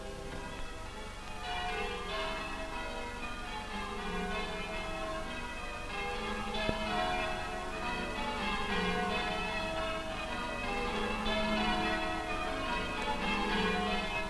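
Village church bells ring continuously in a rural British countryside setting, a dense wash of overlapping peals heard from some distance, steady throughout with no talk.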